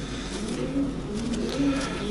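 Breeding pigeons coo softly in a loft, a low murmuring call repeating steadily over a constant ambient hum, with no voices.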